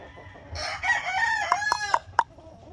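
A Sweater Asil gamecock rooster crows once up close, then gives four sharp clucks in quick succession, heard alone with no talk.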